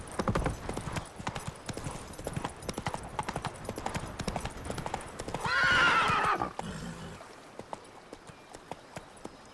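Horse hooves clip-clopping steadily in The Witcher 3, with a loud whinny about two thirds through, then scattered hoof taps as the gallop fades; music sits underneath.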